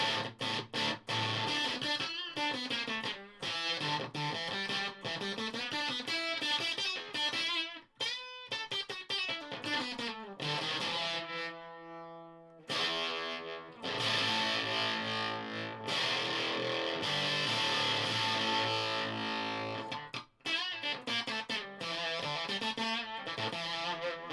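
Heavily distorted electric guitar through an EHX/JHS Lizard Queen fuzz pedal playing chords and riffs, loud and continuous, with a brief drop-out partway through before the crunchy tone returns.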